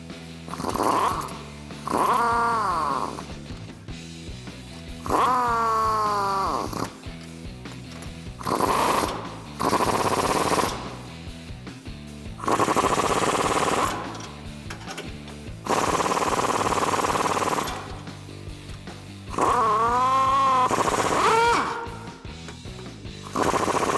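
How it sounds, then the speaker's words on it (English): A power tool runs in repeated whirring bursts, about eight of them with rising and falling pitch and short pauses between, while a 22mm socket tightens front suspension bolts in a crisscross pattern on a 2005-2021 Toyota Tacoma 4WD during a lift kit install. "take a 22mm socket, and we're going to tighten up these bolts in a star pattern or a crisscross pattern"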